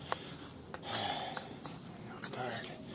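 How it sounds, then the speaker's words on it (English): Congested sniffling and snorting from someone with a cold, several short nasal sniffs spread across the moment, close and moderately loud against faint background noise. "Sorry for the sniffling."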